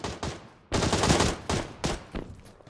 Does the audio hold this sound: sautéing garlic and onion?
no